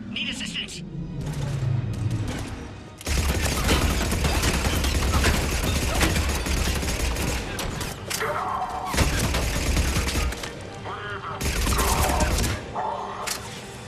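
Rapid bursts of automatic gunfire in the sci-fi shooter Mass Effect 3, loud and close, with sustained fusillades, thuds and booms broken by short pauses, mixed with in-game voices and shouts.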